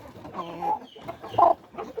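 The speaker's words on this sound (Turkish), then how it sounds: "Sakat bir tavuk zaten." A hen with a crooked neck, apparently lame, clucks in a few short bursts at a breeding pen, close and moderately loud, with soft ambient noise between the calls.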